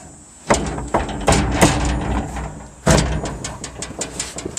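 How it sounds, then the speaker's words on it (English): Precast basement doors slide into place, giving several loud scraping thuds and clunks at irregular intervals, close by, with rattling and outdoor background between the impacts. "What you're going to do is you're just going to slide them in."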